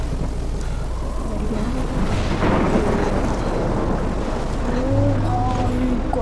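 A heavy thunderstorm in the video game Life is Strange, with a broad wash of rain and low rumbling thunder swelling midway, loud and continuous throughout.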